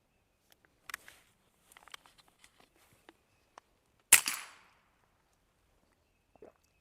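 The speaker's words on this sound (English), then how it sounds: "I'm shooting 2 up, right in the middle." One sharp crack from a Ruger 10/22 rifle fired at targets stands out from a quiet background of scattered faint ticks and taps. The shot is moderately distant, with no speech.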